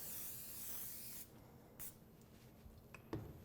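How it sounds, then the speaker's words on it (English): Cooking spray hisses from a can onto a baking pan while cheddar biscuits are prepared, one steady close spray lasting about a second, followed by faint handling noises and a small knock. "Going to just put some cooking spray."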